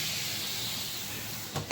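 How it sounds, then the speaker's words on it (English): Water hits a hot pan holding hamburger drippings and sets off a steady, soft steam hiss that runs close by for a moment, with a small clatter at the very end. "I'm going to add a little bit of water because remember, I steam my hamburger meat."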